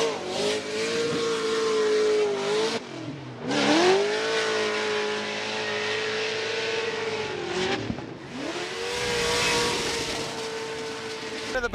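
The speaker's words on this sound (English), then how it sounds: "Listen to this V8 Vortex overcharge" A supercharged V8 in a Nissan S14 drift car at Formula Drift Atlanta revs hard and holds high rpm, rising and falling through several throttle pulls with tire noise and crowd sound around it.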